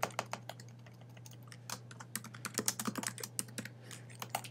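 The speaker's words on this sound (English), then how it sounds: "Then I will type the title" Computer keyboard being typed on, a quick irregular run of crisp key clicks with short pauses, close and alone over a steady low electrical hum.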